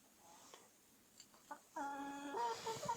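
A village hen about to lay an egg gives a run of loud, insistent clucks and squawks close by, starting with a few quiet rustles before the calls rise.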